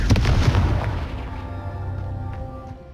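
Confringo fire blast spell in Hogwarts Legacy: a loud booming burst that rolls off into a fading rumble over a few seconds, with faint game ambience after.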